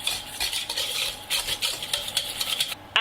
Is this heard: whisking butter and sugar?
yes